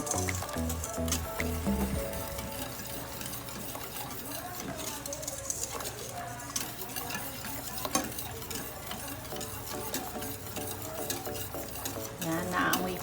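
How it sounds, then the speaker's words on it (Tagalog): A spoon stirs a coffee mixture for Japanese coffee jelly dessert, with soft continuous scraping and swirling in a pot behind steady background music, with no voices. "Haluin lang mabuti."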